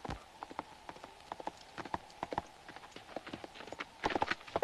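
Horse hooves clip-clop in a quick, uneven rhythm on a hard surface, fairly faint, growing a little louder and busier near the end.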